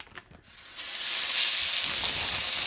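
Avocado oil in a hot wok, a soft clatter followed by loud, steady hissing sizzle that settles into a continuous bright fry.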